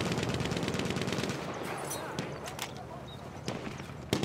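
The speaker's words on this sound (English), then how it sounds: "Enemy machine gun, sight!" Enemy machine gun fire in the Battlefield 1 battle game, a dense, sustained rattle of automatic bursts that thins out into scattered shots and louder single cracks amid general battlefield noise.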